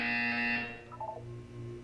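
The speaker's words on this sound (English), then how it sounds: "When you hear the buzzer, look up at the ceiling." A loud, steady electronic buzzer from the Portal 2 video game test chamber sounds for about half a second, then cuts off, leaving quieter game ambience.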